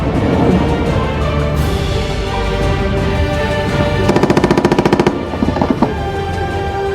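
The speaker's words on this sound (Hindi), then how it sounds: "जो हथियार हम आपको दिखा रहे हैं ये लाइट मशीन गन है" Light machine gun mounted on a military vehicle firing a rapid burst of about a dozen evenly spaced shots, loud and close, followed by a couple of single shots over steady engine and background rumble.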